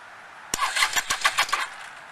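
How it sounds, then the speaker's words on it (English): A motorcycle starter motor, jumped directly on a rebuilt rat bike, cranks the engine over in a quick run of about half a dozen rhythmic chugging pulses, close and fairly loud, then stops without catching. "I'm going to go ahead and throw it in and see if we can get it to turn this bike over"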